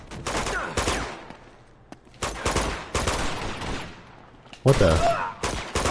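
Gunfire in the video game Uncharted 2: Among Thieves comes in several loud bursts of rapid shots separated by short pauses, with someone speaking between them.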